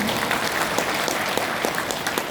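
Audience clapping after a motivational talk on success at work and leadership: dense, steady applause from a crowd filling the whole moment, with no voices over it.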